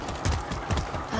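Horse hooves clip-clopping in the video game Far Cry 6, a steady rhythm of soft, close hoof beats.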